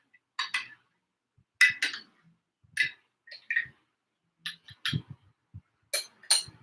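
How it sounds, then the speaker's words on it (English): A spoon stirs kefir inside a glass jar, giving a series of bright clinks and taps in short irregular bursts, fairly close and moderately loud, with quiet pauses between strokes and no talking. "And then you stir it around to make sure it gets all nice and good in there."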